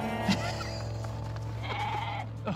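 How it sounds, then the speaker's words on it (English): Goats bleat in a farm pen, some of them transgenic goats bred to make spider silk protein. One strong bleat rings out near the start, over a continuous low hum, and further quavering bleats follow later. "You won't be able to tell the normal goats from the transgenic goats because they're all exactly the same."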